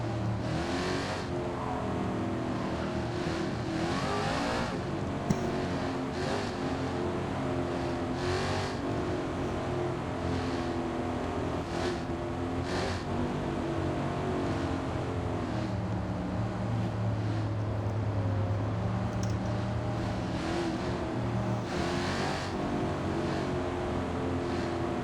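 Race cars in an oval stock car race, a dense continuous engine roar with repeated higher whines as cars pass close by, steady and loud throughout, with no talk.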